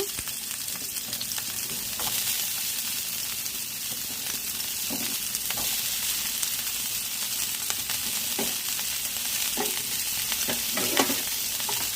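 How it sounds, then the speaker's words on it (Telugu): Sliced onions frying in oil in a kadai for fish curry give a steady loud sizzle, with occasional stirring scrapes of a ladle against the pan, close up and without speech. "అదే బాండీలో కొంచెం ఆయిల్ వేసుకుందాము అంటే ముక్కలకు సరిపడా ఉల్లిపాయలు వేస్తున్నానండి నేను"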